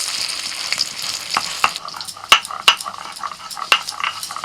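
Spinach fritters with a prawn filling frying in hot oil, a steady bright sizzle with occasional sharp clinks of a utensil against the pan, close up with no talking.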